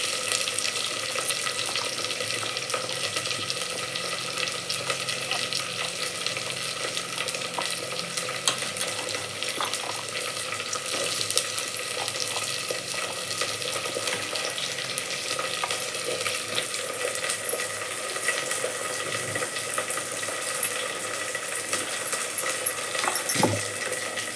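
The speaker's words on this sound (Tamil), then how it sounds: "நம்ம வந்து பூண்டை எண்ணெயிலே நல்லா வணக்கி எடுக்கணுங்க." Garlic cloves sauté in hot oil while a Tamil garlic kuzhambu is being made, giving a steady, close, continuous sizzle with faint scraping stir sounds and a small clatter near the end, with no talk.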